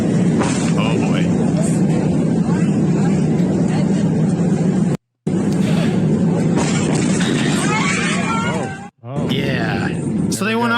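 A LATAM Airbus A321 airliner sliding off a wet runway, a loud, continuous rumbling roar of engines and rolling noise that briefly cuts out twice near the end.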